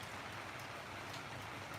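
Steady rain falls in the mountains of Laos, a dense, even hiss of drops with soft patters on surfaces, moderately quiet and continuous, with no voices.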